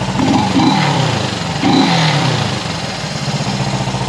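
A Honda CB360 motorcycle engine idling after carburetor tuning, a steady close mechanical putter with brief swells, heard alone without talk.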